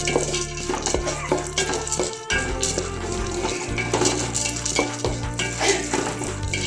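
Raisins and beaten rice roasting in ghee in a pan for a Kerala aval vilayichathu sweet, a steady close sizzle and crackle broken by scraping stirs and light clinks of the spoon against the pan.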